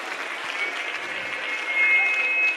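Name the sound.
applause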